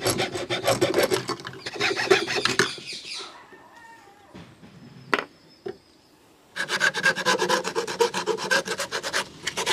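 A saw rasps back and forth through a wooden frame piece for resin art, fast and steady, then stops for a quiet pause with a few light knocks before the cutting strokes resume loudly nearby.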